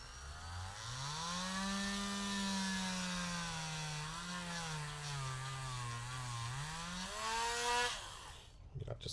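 A tiny burr bit grinds away plastic on a toy figure, giving a steady high rotary whine that wavers slightly in pitch for about eight seconds before cutting off, close to the mic.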